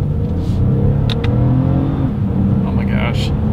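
A 2022 Lexus ES 350 accelerating through a paddle-shift test, its engine holding a steady, loud drone with rising whine and a faint gear change, close and continuous throughout.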